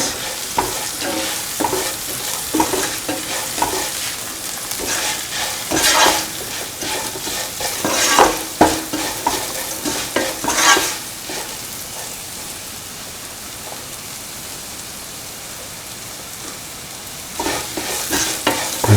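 Salted beans stirred and tossed in a hot pan for an instant bean pickle, a steady sizzle broken by repeated scraping and stirring bursts that swell in the middle and ease off toward the end, with no voices.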